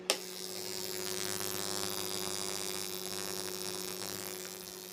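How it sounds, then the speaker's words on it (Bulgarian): A fan runs alongside a high-voltage spark gap discharger, giving a steady 100 Hz electrical hum with a continuous buzzing hiss throughout after a sharp click at the start. "виждаме честотата 100 Hz, пускаме вентилатора, чува се и разрядника."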